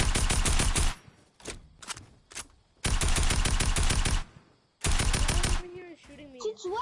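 Loud bursts of automatic gunfire in the Fortnite video game, several rapid volleys separated by short gaps, with a voice talking near the end.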